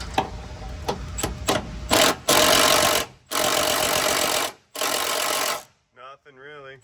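A 3/8-inch impact wrench hammers in repeated long bursts against rusted, rotted cab mount bolts on a Ford F-350 6.4, loud and close with short pauses between runs, followed by a brief voice at the end.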